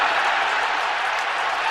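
A stadium crowd at a 2007 Chargers–Packers NFL game roars in a dense, steady wash of noise and applause, loud and continuous throughout, with no voice standing out.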